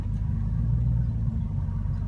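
A 2006 Mustang GT fitted with a JLT Series 3 cold air intake, cruising: a steady, deep engine rumble heard from inside the car, even and unbroken.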